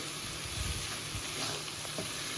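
Roasted chicken pieces stirred into sizzling masala with salt, chili powder and coriander powder, a constant close frying hiss with soft scraping of the stirring.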